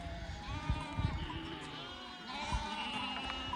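Sheep in a mixed flock on an island pasture in Turkey bleat now and then over a steady outdoor background, the calls moderately close and overlapping with shuffling and animal movement.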